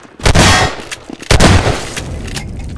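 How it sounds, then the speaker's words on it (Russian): Gunshots in the multiplayer shooter Half-Life 2: Deathmatch, two loud, sharp blasts about a second apart, each with a short ringing tail, followed by quieter clicks. "он выстрелил"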